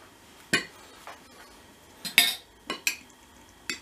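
Pizza dough batter being stirred in a bowl, with irregular scraping strokes and clinks of a spoon against the bowl's side, close up and without any talking.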